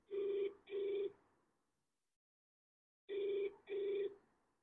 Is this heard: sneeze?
no